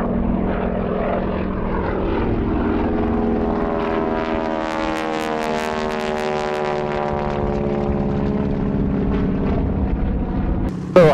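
A 1944 SNJ-5 propeller airplane engine drones steadily and loudly at close range, its pitch rising and swelling through the climb, with no voices.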